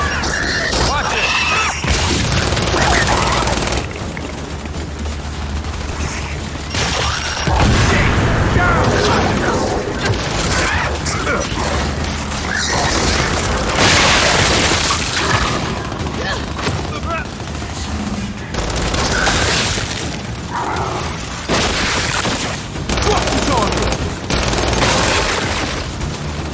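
Gears 5 video game combat with turret gunfire: loud, dense, continuous bursts and booms mixed with shouting voices and heavy mechanical noise throughout.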